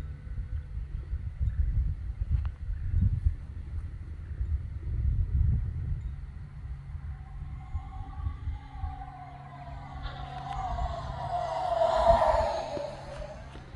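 FMS Fox 3000 mm aerobatic powered RC glider flying past outdoors, a rising then falling whistling whoosh that swells near the end over steady wind rumble, moderately distant with no talking.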